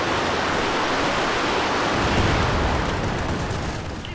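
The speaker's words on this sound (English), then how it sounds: "here comes the actual Werfer barrage" A Nebelwerfer rocket barrage in Company of Heroes 2 pounds down as a dense, continuous roar of overlapping blasts and hissing rumble, loud and unbroken for about four seconds before easing slightly.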